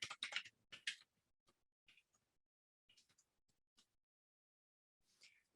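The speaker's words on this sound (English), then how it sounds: "I'm using this keyboard and I think I keep pressing the wrong buttons." Clusters of keystrokes on a computer keyboard during a login attempt, quick bursts of clicking at the start followed by sparse, faint taps with pauses, close and quiet with no talking.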